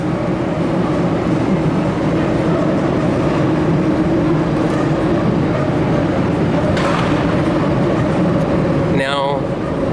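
A loud, steady rumble of a train rolling past nearby, a continuous roar with clattering undertones throughout, and a brief whistle-like sweep near the end.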